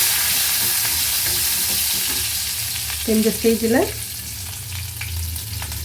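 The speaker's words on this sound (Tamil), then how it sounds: "நெக்ஸ்ட்டு கருவேப்பிலை போட்டு நல்லா ஃப்ரை பண்ணிடுங்க." Curry leaves sizzle and crackle in hot oil, a steady close frying hiss, with a brief voice speaking partway through.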